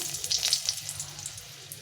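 Dried red chillies dropped into hot oil: a soft, crackling sizzle with small spitting pops, fairly faint and steady, with no talking over it.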